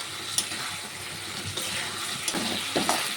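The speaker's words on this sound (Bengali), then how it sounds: "আলুটাকে দিয়ে একটু কষিয়ে রান্না করে নেব মশলার সাথে" Potatoes stir-fried with spice paste in a pan give a steady broad sizzle, with a few soft scraping stirs rising near the end.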